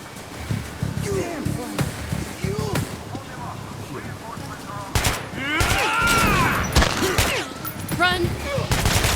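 Gunfire in the game Metro: Last Light Redux: dense rapid shots and sharp bursts over constant loud game noise, with voices talking throughout.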